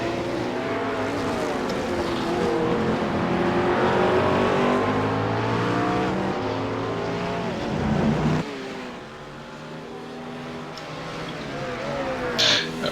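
GT race cars in a simulator racing game at Circuit Gilles Villeneuve roar past with rising and falling engine revs, layered under steady commentary talk, the engine drone dropping away toward the end.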